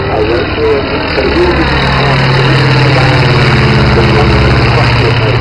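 A loud, steady engine drone with a buzzing, rattly rotary character holds throughout, from a World War I-era rotary-engine triplane flying close by at an air display.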